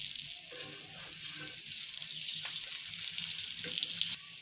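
A paratha cooks on a hot, oiled tawa, sizzling and hissing steadily up close, with a few soft scraping touches and no voices, until the sound cuts off abruptly near the end.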